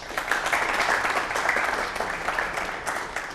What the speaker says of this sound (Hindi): आप एक दूसरे का ताली बजा के स्वागत करिए।